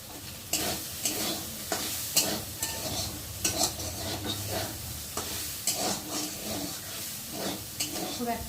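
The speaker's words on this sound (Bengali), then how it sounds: "হালকা করে তেলের মধ্যে ভেজে নিতে হবে।" Soya chunks fry in oil with a little salt and turmeric while a spatula stirs them, giving a steady sizzle broken by regular scraping strokes, close and fairly loud, with no voice.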